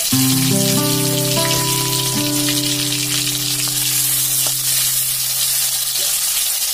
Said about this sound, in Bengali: এবার এর মধ্যে জিরা ফোড়নটা দিয়ে দেবো।